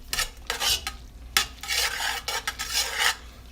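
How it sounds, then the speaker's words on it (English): Macaroni and cheese stirred in a pot, with scraping, swishing strokes coming in uneven bursts close by, each stroke clear and fairly loud against a quiet kitchen background. "I'm gonna stir this around."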